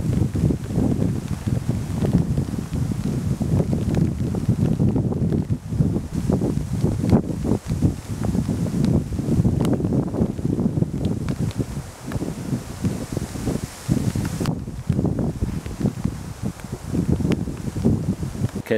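Strong, gusty wind blowing through woodland outdoors, a constant roaring rush with rustling foliage and buffeting against the microphone, continuing for the whole stretch without talking.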